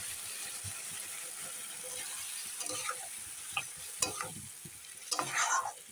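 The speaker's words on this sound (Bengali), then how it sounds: "আলু সব ভাজা হয়ে গেছে, সুন্দর একদম কষানো হয়ে গেছে, খুব সুন্দর ফুটছে" Potatoes frying and simmering in a pan give a steady soft sizzle, with a few scraping stirs and clinks toward the end, heard alone at moderate level.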